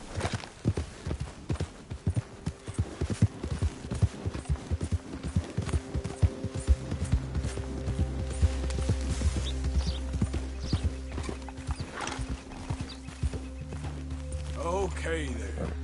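Horse hooves pound in a steady clip-clop rhythm while riding in the Red Dead video game, with a deep rumbling bed of game sound beneath and a voice talking over it.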